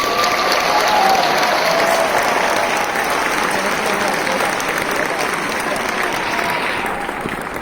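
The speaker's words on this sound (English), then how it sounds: "So let's give a huge round of applause for VEX Education" A large audience at a robotics competition opening ceremony breaks into sustained, dense applause, loud and steady throughout, tapering slightly near the end.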